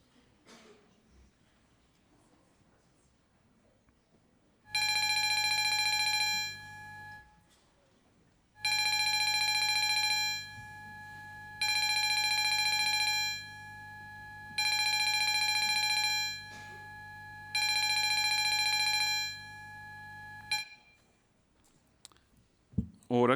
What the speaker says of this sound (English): A division is called. Ring the bells.